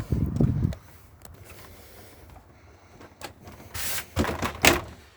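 A caravan door rattles and slides open with a low thump, followed by a quiet pause and then several sharp clunks and latch clicks.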